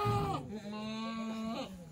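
A single drawn-out bleat comes from a Kathiawadi goat kept near its nursing kids. The call wavers and rises at the end, is fairly quiet and stands alone with no talk.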